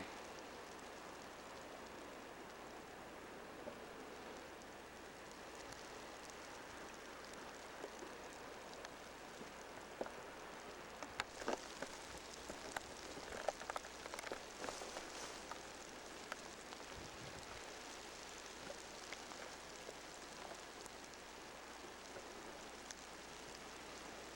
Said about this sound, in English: Yeah, it's starting to rain heavy.